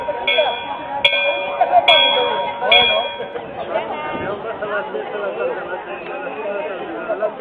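Hermitage bell rung by visitors during the San Roque pilgrimage festival in Candás, heard as three bright strikes early on, ringing over steady crowd chatter with people talking throughout.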